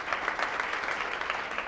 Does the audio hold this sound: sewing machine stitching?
no